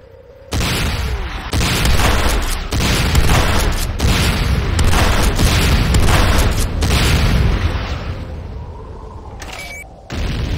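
Loud, sustained booming blasts as an enemy structure is destroyed in a video game, a dense rumbling burst of explosions lasting several seconds before fading, with a short electronic tone near the end.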